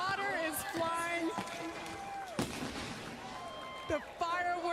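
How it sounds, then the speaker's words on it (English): Fireworks crackle and pop at a NASCAR Camping World Truck Series championship celebration at Homestead, with sharp bursts over a busy crowd and loud commentary voices. "The fireworks."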